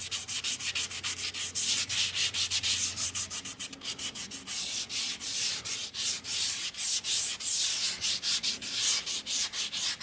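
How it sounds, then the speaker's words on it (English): Sandpaper worked back and forth by hand along a factory body line on a 1993 Cobra in final primer, taking out excess filler; a steady, close rasping scrub repeats in quick strokes throughout with no talk. "Just let the sandpaper do the work. Basically, you're just moving it back and forth."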